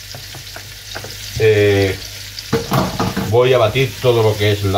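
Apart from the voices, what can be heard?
onion cut julienne frying in a pan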